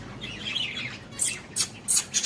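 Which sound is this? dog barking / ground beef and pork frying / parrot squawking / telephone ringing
parrot squawking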